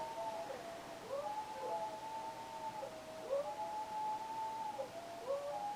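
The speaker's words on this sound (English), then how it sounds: "That is our pack, Buttermilk, no coyotes." A pack of wolves howling, several long wavering howls overlapping and rising and falling together, faint and distant.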